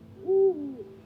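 A single owl hoot, clear and fairly close, sounds in a garden at night. It is one brief, wavering call against a quiet background.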